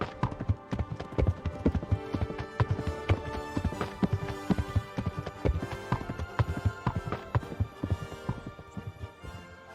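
A horse gallops nearby in the video game Kingdom Come: Deliverance, its hooves pounding in a fast, steady clatter that continues throughout, loud and without any voices.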